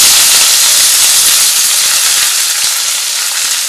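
Curry leaves and onion hitting hot tempering oil in a pan, with urad dal and chana dal already frying, give a loud, continuous, close hiss that settles slightly toward the end.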